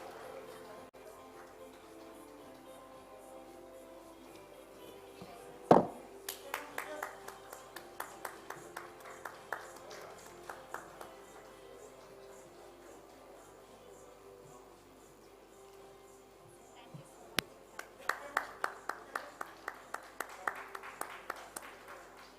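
Audience applause for panelists at a healthcare summit comes as two short rounds of scattered, moderately faint clapping in a hall, with a host speaking before and between them.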